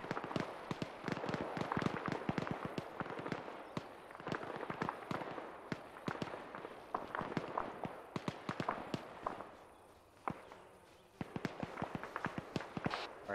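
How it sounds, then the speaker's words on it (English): Sharp cracks of gunfire from an ArmA 3 firefight, dense and irregular throughout, some bursts rapid and clustered, with a brief lull around the tenth second before the shots resume at moderate distance. "I can hear those gunshots to our north pretty close."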